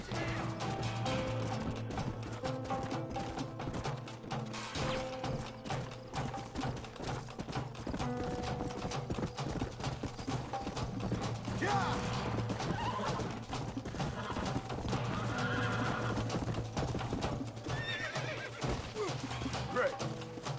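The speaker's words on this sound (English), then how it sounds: "Get away from them horses!" Horses whinny and hooves clatter in the Red Dead video game, layered over continuous game music and ambience at moderate loudness throughout.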